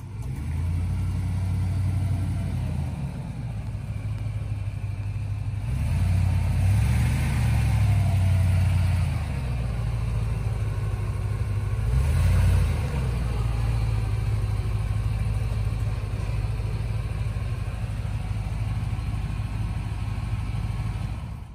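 A Range Rover P38 engine runs steadily for a long stretch, a low, even drone with two brief swells where it picks up slightly, and no voices.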